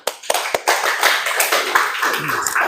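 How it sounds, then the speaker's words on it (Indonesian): A classroom of students clapping hands together, a brisk irregular patter of close claps running for a couple of seconds without talk. "Oke, aplaus, tepuk tangan."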